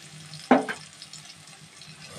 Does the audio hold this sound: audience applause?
no